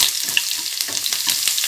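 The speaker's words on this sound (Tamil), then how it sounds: "நல்லா வதக்கி வச்சுருங்க." Green chilli, ginger and garlic sautéing in a pan, a close, steady sizzle with small crackles and pops and occasional stirring scrapes, no voices.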